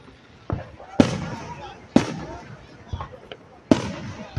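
Fireworks burst outdoors in a series of sharp, loud bangs at irregular intervals, some strong and close, with faint crackling and background noise between the blasts.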